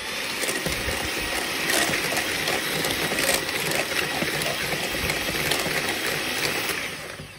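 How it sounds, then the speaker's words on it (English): A handheld electric whisk whirs steadily through eggs and sugar in a bowl, a continuous buzzing drone that holds level for several seconds before easing off at the end. "we're going to use electric whisk to mix the two together"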